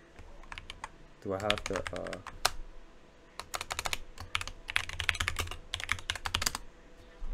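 Keystrokes on a computer keyboard as a command is typed, bursts of quick clicks separated by a pause, with a brief spoken phrase near the start mixed in.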